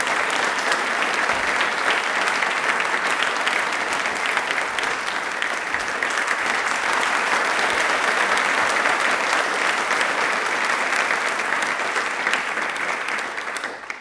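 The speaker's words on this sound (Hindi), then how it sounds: "प्लीज एक बार जोरदार तालियां हो जाए।" Loud, continuous applause from a studio audience at a televised question-and-answer program on railways, a dense steady wash of many hands that holds for the whole stretch and tapers slightly at the end, with no voices over it.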